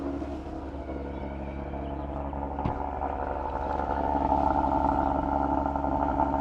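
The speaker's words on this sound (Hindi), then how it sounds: "गुड साउंड अच्छी साउंड है एक्चुअली, V6 इंजन की साउंड है।" A 2026 Audi RS5 V6 engine idles steadily in RS mode, a low continuous rumble heard from inside the cabin that swells slightly in the second half.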